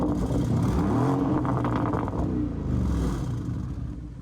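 A Lamborghini Urus SE's V8 burbles through its dual-tip exhaust, a loud close idle with a rev that swells and settles, then fades slightly at the end.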